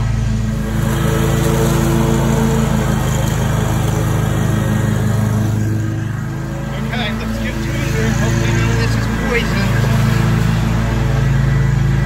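A Stihl FS 91R string trimmer drones steadily at close range as it cuts through extremely overgrown lawn grass, its engine note dipping slightly and then recovering partway through.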